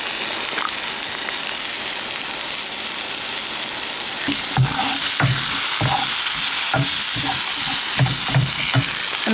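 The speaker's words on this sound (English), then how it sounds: "I'm gonna do the spices before the rice so the spices have a chance to cook in the oil" Cajun seasoning spices cook in hot oil with a loud, steady sizzle, and after a few seconds repeated stirring knocks and scrapes join in.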